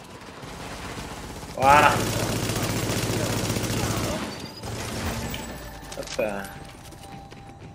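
Gunfire in the game The Division comes as a rapid, sustained automatic burst lasting a few seconds, followed by scattered single shots, while someone speaks briefly.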